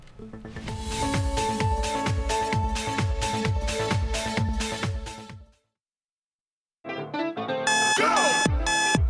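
A loud, rapid alarm clock ringing in a steady pulsing rhythm, cutting off abruptly, then after a short silence a different electronic tone pattern begins.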